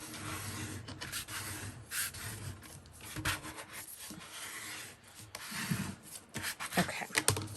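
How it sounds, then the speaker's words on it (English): Glue being spread around on paper for a handmade traveler's notebook cover, a steady close scratchy rubbing that carries on throughout with small swells in loudness. "I'm just going to spread that glue around."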